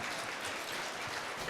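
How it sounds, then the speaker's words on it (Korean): Wedding guests clapping at a reception in a hotel ballroom, a steady dense wash of applause from a crowd filling the whole moment without speech. "여러분 박수 한번 보내주시죠."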